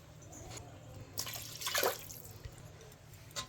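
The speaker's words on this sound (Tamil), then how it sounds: "டோட்டலாக 3 டம்ளர் ஊற்றணும்." Water is poured into a pot for cooking basmati rice for chicken biryani, a brief splashing burst in the middle with a few drips before and after, close and fairly quiet.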